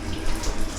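Water pours steadily from a shower on a sailboat once the knob is turned, a brief close hiss of running flow heard alone.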